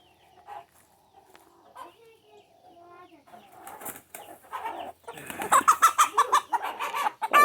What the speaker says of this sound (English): That would be a broody hen that we don't want sitting on eggs.